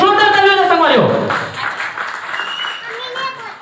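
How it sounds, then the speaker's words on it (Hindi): An award-show crowd applauds a Chhattisgarhi song at the CG Album Award 2022-23. A loud voice speaks at first, then a broad, steady rush of clapping continues on its own. "आप लोग की तालियां, आप लोग ने स्टैंडिंग ओवेशन दिया इस गाने को"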